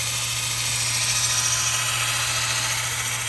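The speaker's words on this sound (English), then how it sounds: "Just continue buffing it until it shines." A power buffer polishing a car headlight during restoration, a continuous whirring motor drone with a steady hum and hiss that never lets up.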